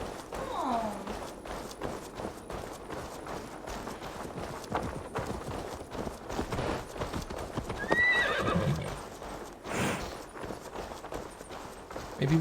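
A horse neighs and whinnies in Assassin's Creed Valhalla, a clear shrill call early and another around the middle, over steady clip-clopping hooves and quiet game ambience, with players talking at times.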